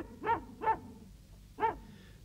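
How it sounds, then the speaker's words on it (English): A dog barks three times, two quick barks, a short pause, then a third, heard at moderate volume with some distance. "the next thing he heard was Mungo barking"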